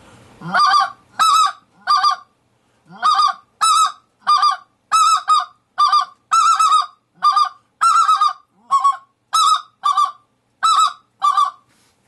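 A series of loud, high-pitched specklebelly goose calls comes in quick two- and three-note bursts with short pauses between, close and clear with no voices.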